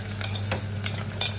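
Onion frying in a pan with cumin and whole spices for mushroom pulao, a short burst of steady sizzling with a few sharp stirring taps over a low hum, and no voices.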